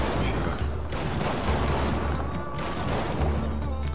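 Gunfire rattles in a dark night shootout in the video game Mafia III, a continuous close fusillade of rapid shots and booms with no pauses.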